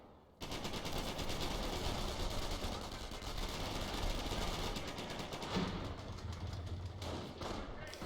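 Half-track's quad cannon firing in a World War II strategy game, a dense continuous stream of rapid thudding shots that runs steadily for several seconds with a muffled game-battle din underneath.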